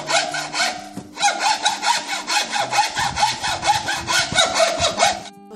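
A hand saw rasps through wood in steady back-and-forth strokes after a brief pause, rhythmic and close.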